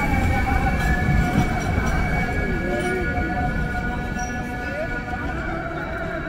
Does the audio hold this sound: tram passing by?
yes